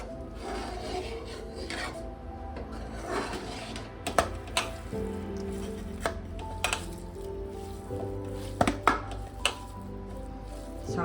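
Fresh chhana (cottage cheese) for sandesh is mashed and rubbed by hand against a plate or bowl, giving a continuous soft rasping and squishing with occasional sharper knocks, close up and unaccompanied by talk.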